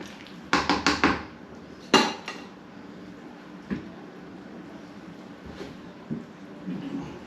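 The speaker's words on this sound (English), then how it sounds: "Give our pasta a stir." Penne pasta stirred in a pot for an allergy-free Bolognese, with a quick run of four metal clanks against the pot, another knock, then faint scraping and occasional light taps.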